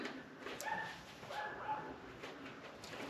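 Several dogs barking and yipping indoors, faint and somewhat distant, a few short high yelps over steady background noise in a garage where a CRF450RL dirt bike is being worked on.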